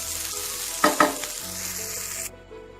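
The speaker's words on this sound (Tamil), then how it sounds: "கடைசியாக கருவேப்பிலை, மல்லி இதையும் போட்டு நல்லா வதக்கிடுங்க" Goat liver pepper fry with curry leaves and coriander sizzling in a pan, a steady hiss with two brief stirring clatters near the start before the frying sound cuts away at the end.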